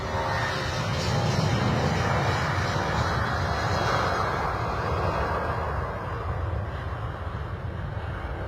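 Airliner on its takeoff roll at London Stansted in the morning, a broad roaring engine rumble building and sustained at a distance, mixed with wind noise, no voices.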